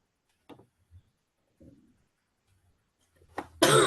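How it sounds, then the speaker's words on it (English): A few short, scattered coughs and throat sounds, close and fairly quiet, ending in a louder burst of breathy noise. "You will have to excuse the coughing as well, guys."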